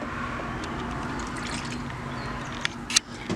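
Brake fluid trickles from a car's reservoir into a bucket in a steady thin stream, close and moderately loud, ending with a few drips and a faint clink near the end.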